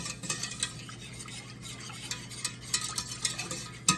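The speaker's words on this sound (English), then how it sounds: "We want to dissolve all the cornstarch before you start to heat up the sauce." Orange chicken sauce with sugar and cornstarch being stirred in a pot before heating, a close, quiet run of spoon scrapes and taps against the pan, with no talking.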